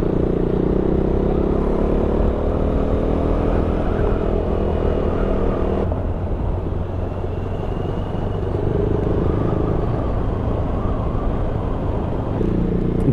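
A KTM motorcycle rides along scenic roads on Gran Canaria, its engine droning steadily throughout with continuous low rumble and wind noise, the note shifting slightly partway through as the rider changes pace.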